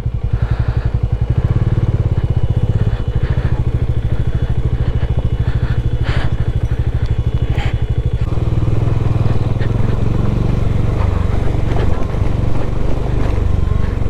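Motorcycle pushing through a rough off-road patch in first gear on a North Bengal ride from Sevoke to Kaffergaon, its engine chugging loud and close in a steady low pulse with some rattling, continuous for the whole stretch.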